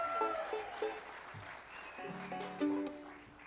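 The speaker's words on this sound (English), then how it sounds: "give a big round of applause for Mrs." Audience applause at a fiddle, banjo and dance club show, steady and moderately loud, mixed with lingering instrumental tones and a voice throughout.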